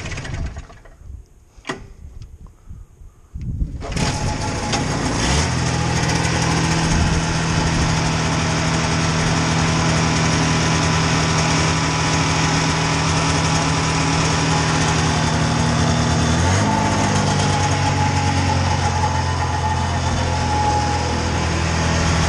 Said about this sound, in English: I do think it runs well enough to follow through and get the thing cleaned up